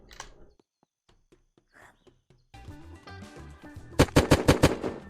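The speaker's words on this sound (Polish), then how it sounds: "ktoś na militarce strzela" Gunfire at the military base in Unturned: sparse faint ticks at first, then a louder passage and a rapid cluster of sharp shots near the end, close and punchy, with game music or ambience underneath.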